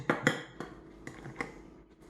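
Blue gel food coloring being stirred into batter in a bowl, with a few sharp utensil clinks against the dish and softer scraping between them, close and fairly quiet.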